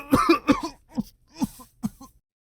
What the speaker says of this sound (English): An irritation in my throat forces a wheeze out of me, and then a cough that scratches at my throat